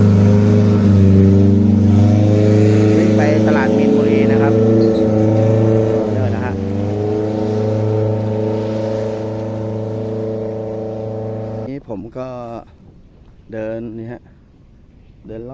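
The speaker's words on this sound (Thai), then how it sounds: "บริเวณริมคลองก็จะมี เรือโดยสาร" A passenger boat motors along a canal in Bangkok, its engine giving a loud, steady droning hum that fades after about ten seconds, followed by brief voices near the end.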